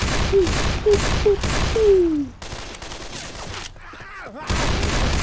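Rapid bursts of gunfire from Left 4 Dead 2 co-op zombie shooter gameplay, several loud volleys in quick succession, then a short lull and more shooting near the end, with game effects mixed in.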